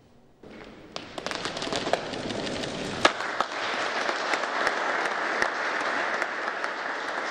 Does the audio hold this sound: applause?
yes